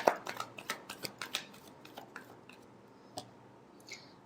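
Tarot cards being shuffled by hand, a run of crisp riffling snaps and taps close by, quick at first, then thinning to a few scattered flicks.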